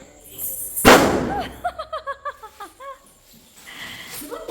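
A firecracker bursts with one sharp, loud bang, followed by a quick run of short, high chirping calls and then quieter background noise.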